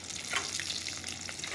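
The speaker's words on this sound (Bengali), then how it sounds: "ডিমটা ভাজা হয়ে গেল" An egg frying in a pan gives a steady, close hiss with light crackling and spitting, a continuous even sizzle with no voices.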